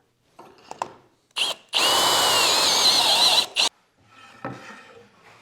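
A power drill with a half-inch bit bores a pilot hole into wood for a dining table leg, running in one loud steady burst of about two seconds with short bursts before and after and quieter shop noise around it.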